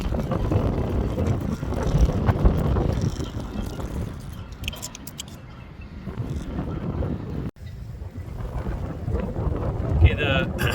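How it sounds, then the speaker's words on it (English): Strong gusting wind buffets the microphone by the water during a brown trout fishing outing, a loud, rumbling roar that surges and dips throughout, close and dominating. "the wind is absolutely ripping this morning"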